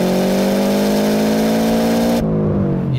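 A Subaru Impreza 22B engine revs hard at high RPM, a loud, sustained rising drone that holds steady near the limiter and then drops away as the throttle closes.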